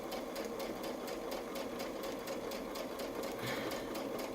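A sewing machine stitches around a feather-shaped quilting ruler template, a steady rapid whirring hum that runs without a break throughout, close and fairly quiet.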